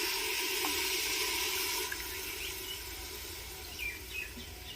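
Cups of water pour into a pot of rice for veg pulao, a steady splashing stream that eases off midway and then trickles briefly near the end, close and fairly loud.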